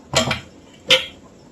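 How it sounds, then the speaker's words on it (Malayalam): A spoon stirring curd into kalan in a cooking pot, heard as two brief metallic scrapes and clinks against the pot, close and alone over a quiet background. "ഇളക്കി കൊടുക്കണം."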